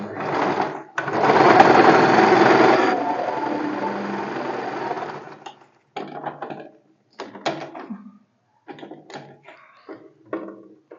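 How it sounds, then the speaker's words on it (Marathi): A sewing machine stitches a blouse strip in a close, steady whir for a few seconds, then stops, followed by scattered short clicks and fabric handling. "त्यानंतर दाब शिलाई मारून घ्यायची"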